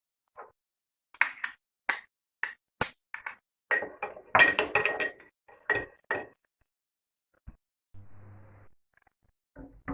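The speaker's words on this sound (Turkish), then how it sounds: "Çorbamızın üzerine dökmek için 2 diş sarımsak ve 3 yemek kaşığı sirkeyi kasede karıştırıyoruz" A spoon stirs two cloves of garlic and three tablespoons of vinegar in a bowl, making a string of bright, irregular clinks and taps against the bowl, close and clear in an otherwise quiet kitchen.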